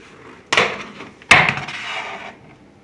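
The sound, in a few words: lid pulled off a worm bin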